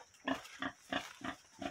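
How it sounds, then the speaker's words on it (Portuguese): Pigs on a farm giving five short grunting squeals in an even rhythm, close and clear over a quiet background. "vamos dar uma olhada nos porcos"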